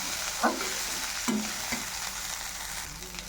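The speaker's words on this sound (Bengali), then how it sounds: "পাঁচফোড়ন, শুকনো মরিচ আর জিরে ফোড়ন দিচ্ছি, দিয়ে তাতে সাবুগুলো দিয়ে ঢেলে দিচ্ছি এবং ডালগুলো দিয়ে এবার একটু কষাই নেব সুন্দর করে" Sago pearls and dal stirred and sautéed in a pan with panch phoron, dried red chilli and cumin, a steady close sizzle broken by a few scraping stirs, no talk.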